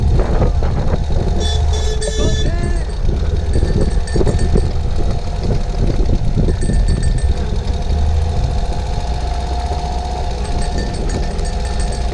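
A Ural motorcycle engine idles steadily at close range, a loud continuous low rumble with a knocking, chugging pulse and some brief higher rattles near the start.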